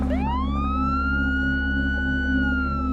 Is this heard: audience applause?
no